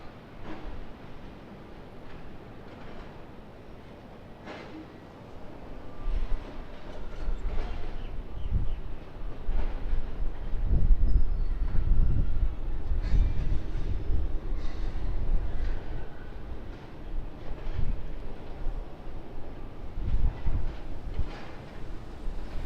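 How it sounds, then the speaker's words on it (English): A China Eastern Airbus A350 passes overhead near Sydney Airport, a broad, rising roar that swells from a quieter start to a sustained loud rumble and lingers without fading much. "Aircraft overhead. Airbus A350 of China Eastern."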